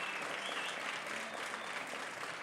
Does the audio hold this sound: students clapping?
yes